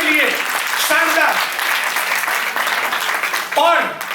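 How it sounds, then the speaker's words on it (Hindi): Audience applause at the Rajasthan Karmveer Award 2024 ceremony, a steady broadband patter of many hands filling the whole stretch, with a presenter's voice speaking over it at the start, middle and end. "तालियां बजाएं इनके लिए, शानदार"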